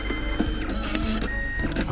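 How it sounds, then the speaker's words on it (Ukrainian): A printer in a warehouse runs continuously while printing an order, a steady mechanical whir with rhythmic feed clicks, close and fairly loud, with no voices. "Вже друкує принтер."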